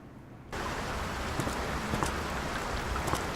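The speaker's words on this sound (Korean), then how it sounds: "빗소리 너무 좋은데?" Rain in a horror video game, Layers of Fear, starts suddenly and then falls steadily, a dense even hiss with scattered droplet taps and no voices.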